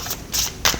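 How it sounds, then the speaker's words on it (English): Tarot cards being shuffled give a few quick papery riffles, three short close bursts in under a second, with no voice over them. "I'm going to shuffle these."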